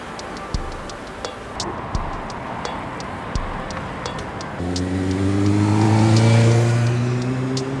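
A 2014 BMW i3 electric car pulls away from rest. Steady clicks give way to a smooth, rising electric whine and road hum, close and moderately loud.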